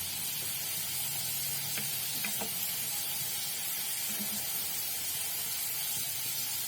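Cumin seeds and asafoetida (hing) frying in hot oil in a pan, a steady soft sizzle running throughout with a few faint clinks, no talking.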